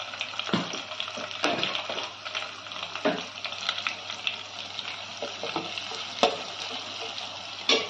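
Dried red chillies and curry leaves fry in hot oil with a steady close sizzle, broken by occasional stirring scrapes and utensil knocks.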